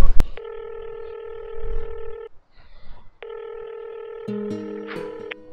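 Steady telephone tones sound in two long bursts, followed by a quick series of shorter dialing beeps at the end, fairly loud and close.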